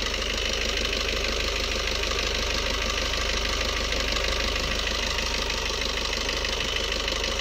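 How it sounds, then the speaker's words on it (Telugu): Maruti Suzuki Baleno car engine, run past one lakh kilometres and being treated with a carbon cleaning injection, idles with a steady, even broadband hum and rumble throughout, close by and with no talk over it. "ఇంజిన్ నాయిస్ కూడా రిడ్యూస్ అవుతుంది"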